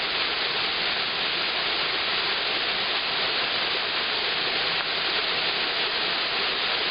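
Third Rusyliv waterfall, a 2 to 5 metre cascade, roars as a steady, loud broadband rush of falling water, continuous and unbroken with no voices over it.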